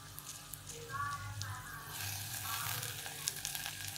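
Tomatoes dropped into browned onions frying in a pan, a quiet steady sizzle that thickens into a fuller hiss midway, with faint stirring clatter.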